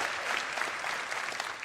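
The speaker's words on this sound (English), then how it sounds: "So please give a round of applause for Tyler Wicken." Steady clapping from an audience, a dense patter of many hands at an even level throughout, with no voices standing out.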